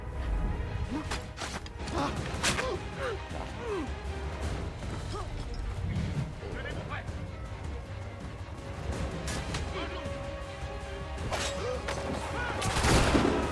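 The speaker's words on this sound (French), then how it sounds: "Pistolet." Pistol shots and combat clashes ring out in Assassin's Creed 3 as a series of sharp cracks scattered across the scene, mixed with game noise and a commentator talking.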